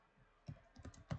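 Several light, quick key presses on a computer keyboard during programming work, three or four soft clicks in an uneven rhythm, close and quiet with no talking.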